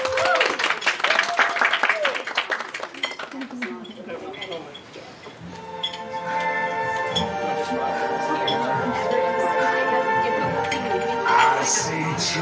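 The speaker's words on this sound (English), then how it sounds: "Let's give a round of applause" Wedding guests applaud with loud, dense clapping that fades over several seconds, followed by a slow song playing for a father-daughter dance.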